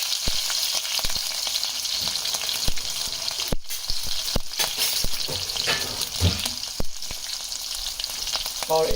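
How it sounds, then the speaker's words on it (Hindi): Cumin seeds and chopped green chilies hit hot oil in a pan and sizzle loudly and continuously, up close, with occasional sharp spoon taps and stirs against the pan. "अब ये ऑयल गर्म हो चुका है तो मैंने इसमें हाफ टी स्पून जीरा डाला है। उसके बाद इसमें मैं चॉप की हुई ग्रीन चिली डाल रही हूँ।"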